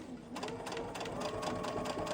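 Sewing machine stitching fabric to make covers for fabric weights, a steady rapid mechanical chatter running continuously at close range with no pauses.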